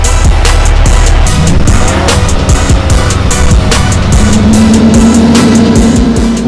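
A 650 hp C8 Corvette engine runs hard on a dyno in 5th gear, a loud, close, continuous roar that climbs steadily in pitch throughout.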